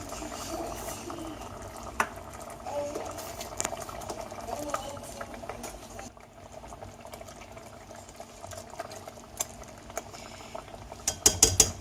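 Apricot jam simmers in a pot over medium heat with soft, steady bubbling and faint clicks, a quiet continuous texture under intermittent speech, ending in a few sharp metallic knocks.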